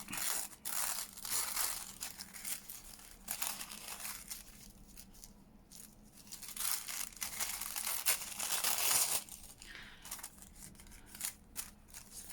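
Text book pages being torn and crinkled around the edges for junk journal tags, a close, continuous papery ripping and crumpling with louder surges and brief lulls, no talking.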